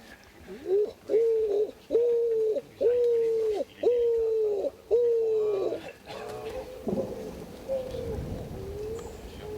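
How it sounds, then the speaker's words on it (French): Pigeons cooing at a palombière hunting hide, five loud, regular drawn-out calls close by, followed by fainter, rougher cooing and rustling. "T'envoies les pigeons, Claude?"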